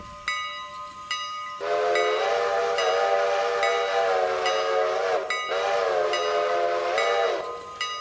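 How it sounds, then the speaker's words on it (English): Train whistle in the Lost Freight Railroad video game, two long loud tonal blasts with a bright harmonic chord, separated by a short gap, following a brief ringing bell tone at the start. "that's basically the engineer's sign with the whistle to communicate with the caboose"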